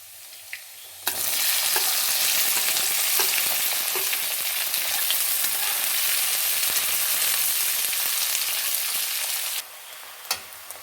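Green chillies and onions sizzle loudly and steadily in a hot pan for about eight seconds, with stirring scrapes underneath, then the frying noise cuts off abruptly to near quiet with a few clicks.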